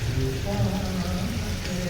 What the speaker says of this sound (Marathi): पाऊस थोडा कमी व्हायची वाट बघतोय.